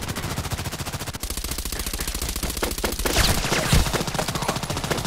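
Rapid, sustained automatic gunfire from a sniper video game, a dense rhythmic rattle of shots running nearly unbroken and loud, with a heavier burst late on.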